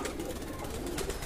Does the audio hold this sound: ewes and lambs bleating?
no